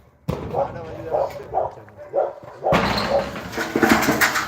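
A dog barks in a rhythmic run of about five sharp barks in a rural yard during shack-building work, then a broader burst of noise follows with the barking continuing underneath.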